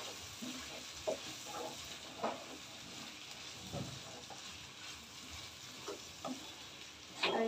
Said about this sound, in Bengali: এইভাবে নাড়াচাড়া করবো।